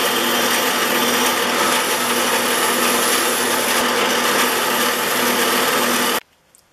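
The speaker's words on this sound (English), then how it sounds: "take the recesses right here on my wire wheel and clean them out" Wire wheel scouring the recesses and notches of a Stanley No. 18 block plane iron and the back of its eccentric plate, a loud steady abrasive whirring and rubbing that runs unbroken for about six seconds, then cuts off abruptly.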